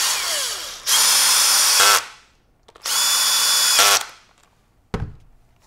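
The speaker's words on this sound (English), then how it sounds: "I normally set the torque on my drill down for this" A power drill drives screws into a Benelli Lupo bolt-action rifle's stock during assembly, two loud steady whirring bursts of about a second each with a rising whine and clutch chatter at the end of each, then a sharp clunk.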